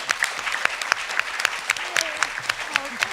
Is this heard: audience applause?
yes